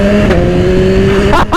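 A 2010 BMW S1000RR sport bike engine holds a loud, close, steady high rev before a quick drop and renewed pull at the end.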